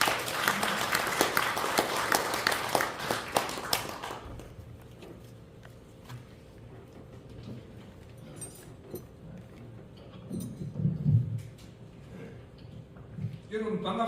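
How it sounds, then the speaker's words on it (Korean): An audience at a founding general meeting held in a press club hall applauds to welcome a speaker, a dense burst lasting about four seconds, then it stops, leaving room noise, shuffling and faint movement. "큰 박수로 맞아주시기 바랍니다."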